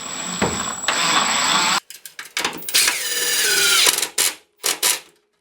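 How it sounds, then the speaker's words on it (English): A hinge being screwed into a block for a flush-mount boat hinge, heard as loud bursts of a powered driver whirring in short runs with brief pauses between, close up and alone. "And you screw the hinge in."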